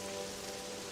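Heavy rain pours hard against a bedroom window during a thunderstorm, a dense, steady roar of drumming drops filling the brief moment with no pauses.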